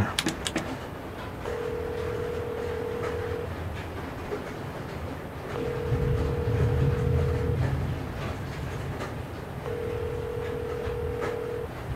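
Telephone dial tones sound three times in steady even bursts, each about two seconds long, while someone dials a number on an office phone, over a continuous low rumbling ambience.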